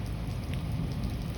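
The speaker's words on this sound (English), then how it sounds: "Thunderstorms are inside the clouds, but the lightning is faster than sound." Rain from a thunderstorm falls in a steady, dense patter, a continuous wash of drops at moderate loudness with no distinct thunder clap and no talking.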